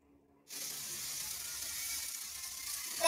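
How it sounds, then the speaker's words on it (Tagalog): Chopped garlic hitting hot oil in a pan, a sudden loud sizzle that bursts in after a moment of near quiet and then holds steady, close and alone with no talk. "Igigisa lang natin ito at saka natin isunod yung ating sibuyas."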